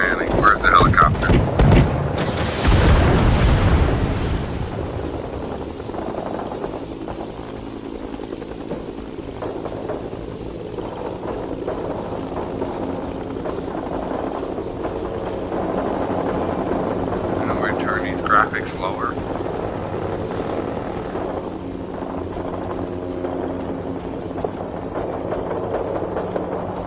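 In the Vietnam War shooter Rising Storm 2: Vietnam, a helicopter's rotor and engine drone steadily through the whole stretch, loudest at the start and then settling into a continuous mid-level hum under sporadic game noise and voices.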